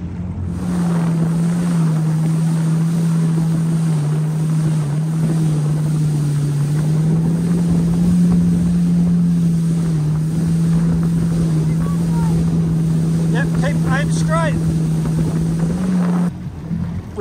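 A motorboat engine drones steadily and loudly throughout, heading out to sea off Rottnest, with wind buffeting the microphone and water rushing past; a few brief high chirps appear near the end.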